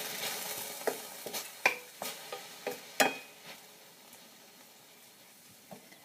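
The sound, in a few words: stirring kale with golden spicy brown mustard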